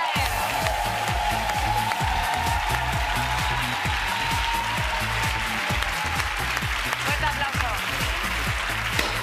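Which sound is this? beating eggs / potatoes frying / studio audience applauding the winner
studio audience applauding the winner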